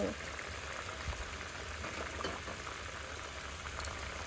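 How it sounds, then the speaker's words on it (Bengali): Soft, steady bubbling of a pot of curry on the boil, a low continuous simmer with faint pops, heard close and quiet. "আমার তরকারিটা একদম টকবক করে ফুটছে"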